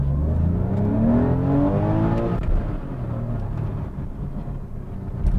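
A 2001 Porsche 911 996 Carrera 4 accelerating hard from a standstill, the engine note climbing through the revs then dropping at a gear change and pulling again, heard loud from inside the car.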